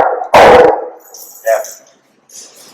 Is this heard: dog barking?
yes